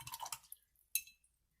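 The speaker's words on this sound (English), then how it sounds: "clean your brush," A watercolor paintbrush swished in a water jar gives a brief close burst of splashy rinsing, then one sharp clink and a faint drip before quiet.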